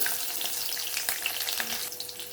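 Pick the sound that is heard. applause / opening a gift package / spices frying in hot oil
spices frying in hot oil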